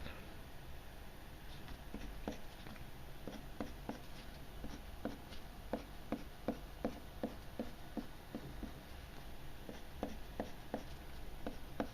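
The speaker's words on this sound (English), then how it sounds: "I'll do 3 lines just like I did with the other pencil" A uni Kuru-Toga mechanical pencil draws lines on paper, giving short, crisp scratching strokes in a fairly steady rhythm over a constant background hiss, with no talking.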